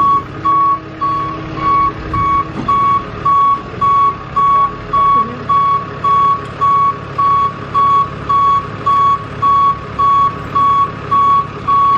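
A tow truck sounds a steady reversing alarm, a loud regular beep repeating about once per second over a low engine rumble, with no talking.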